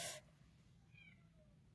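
A cat meows a few times in a quiet room, the calls clear but fairly soft against low background hum, with no talking.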